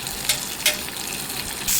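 Steady, dense sizzling of curry leaves frying in hot oil, close and continuous, with a few louder crackling pops.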